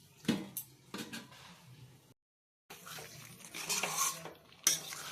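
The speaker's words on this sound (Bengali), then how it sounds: "চিকেন সিদ্ধ হওয়া পর্যন্ত কড়াইয়ের ঢাকনা এবার বন্ধ করে রাখা হবে।" A lid is set on a wok of simmering chicken curry, giving a couple of quiet metallic clinks and clatters with a short silent gap between them.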